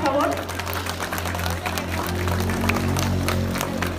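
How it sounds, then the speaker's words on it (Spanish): An outdoor crowd at a parade for the International Day of Persons with Disabilities gives sustained applause over a steady low hum, with voices audible in the mix. "Un aplauso fuerte, por favor."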